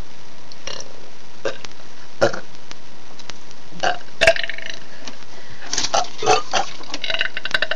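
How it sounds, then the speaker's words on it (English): Several loud burps burst out one after another at uneven intervals, close up, with quiet stretches between them. "we're gonna make burps too"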